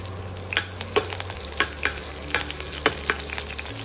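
Spices for tempering crackle and pop in hot oil: sharp, irregular snaps over a soft, steady sizzle, close up with no voices.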